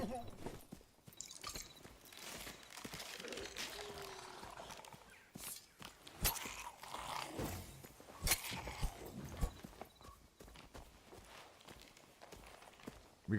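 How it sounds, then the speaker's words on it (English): Footsteps in the dungeon game Dark and Darker, a run of irregular soft thuds and scuffs coming and going at varying distances, quiet overall with faint speech in the background. "We got footsteps."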